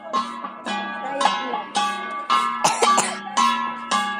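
Someone coughing repeatedly in short, harsh bursts, close to the microphone, with brief throat-clearing sounds between the coughs.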